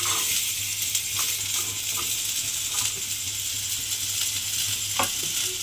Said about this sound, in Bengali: আলুগুলো এর মধ্যে দিয়ে আলুটা একটু হালকা করে ভেজে নেব